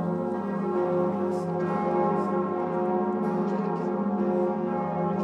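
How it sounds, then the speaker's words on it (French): Church bells across Paris ring out in a steady, resonant peal during a solemn public commemoration, the overlapping tones sustained and continuous, heard at a distance but filling the air. "Les églises de Paris qui sonnent."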